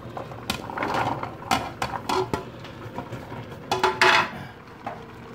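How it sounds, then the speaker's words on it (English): Diced butternut squash tipped into a cooking pot for a vegetable stew, giving a run of clattering knocks and scrapes of pieces and utensils against the pot, irregular and close. "So butternut squash is going in."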